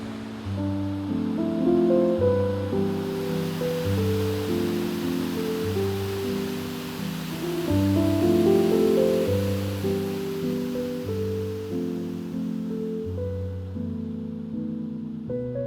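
A waterfall seen from an icy bridge in winter gives a broad, continuous rushing hiss, mixed under a louder layer of sustained tonal music.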